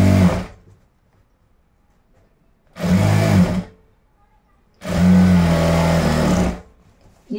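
Sewing machine stitching the side seam joining the front and back pieces of boys' shorts, three separate loud close motor bursts, the last and longest running nearly two seconds, with quiet pauses between them.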